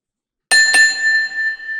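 A workout timer bell marking the end of a HIIT exercise round sounds two quick bright strikes that ring on with a long, clear, sustained tone, alone after silence.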